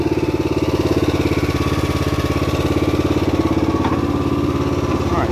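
The engine of a Snapper rear-engine riding mower idles close by, with a steady, loud, rapid pulsing chug throughout.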